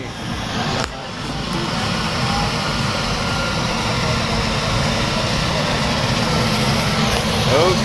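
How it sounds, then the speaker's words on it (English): A skydiving plane's engine drones loudly and continuously at an airfield before a tandem jump, a steady rumbling roar that holds close and strong throughout and swells slightly toward the end. "There's your plane."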